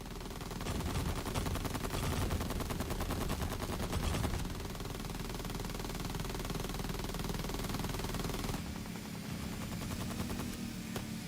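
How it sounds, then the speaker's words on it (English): Rapid automatic gunfire roars almost without a break from a shooter video game, dense and loud throughout, with a sharper sniper rifle shot standing out as the fire shifts near the end. "Sniper shot."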